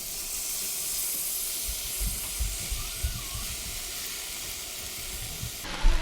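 Chopped cabbage hits browned sausage in a hot pan, giving a steady loud sizzle and hiss with intermittent stirring clatter throughout.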